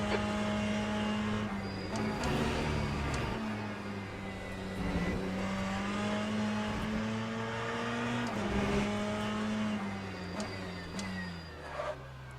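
Le Mans Ultimate GT race car engine droning steadily with harmonic whine while a brief wheel lock-up under braking scrubs the tyres, continuous loud in-car sound with no talk.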